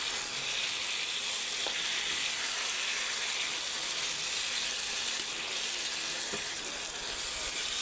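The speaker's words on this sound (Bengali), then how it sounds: "আগে মশলাগুলো কষিয়ে এখন মাছের নাড়িগুলো দিয়ে দিচ্ছি" Fish innards and eggs sizzle steadily in a pan of fried-down spice masala, a continuous close, bright frying hiss with faint clicks and no talking.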